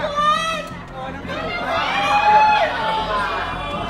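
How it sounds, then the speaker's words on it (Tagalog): Crowd of pageant fans at the official Miss Universe 2025 hotel screaming and cheering to welcome Miss Universe Philippines, a loud, shrill mass of voices and shrieks swelling toward the middle, with chatter mixed in. "Sinalubong lang naman ng matinding hiyawan ang Pinay pagkadating niya mismo sa official hotel ng Miss Universe 2025"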